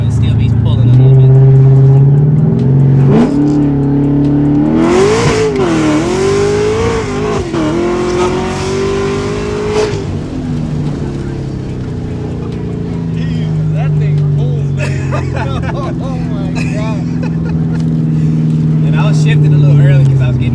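A Corvette C7 sports car fitted with new wheels and LED markers pulls hard on the road, its engine note climbing loudly through the gears with a shift midway, heard from inside the cabin while occupants talk over it.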